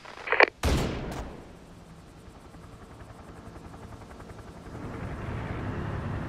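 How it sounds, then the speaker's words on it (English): Rapid bursts of gunfire open loudly from the guns of a Bronze armor unit in the video game Terminator: Dark Fate - Defiance, set in Chihuahua, Mexico, then give way to a steady low engine rumble. "Open fire with Bronze armor guns!"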